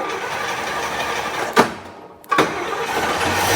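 An International Scout engine, just fitted with a new carburetor, cranks and catches with a couple of sharp bursts around a brief lull, then settles into a steady, close running rumble.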